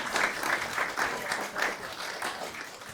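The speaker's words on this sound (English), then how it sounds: "Let's have some applause for these two ladies." A concert audience applauds with steady, moderately loud clapping that swells and fades slightly over a few seconds.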